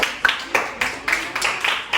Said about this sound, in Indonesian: Beri tepuk tangan juga untuk kelompok 5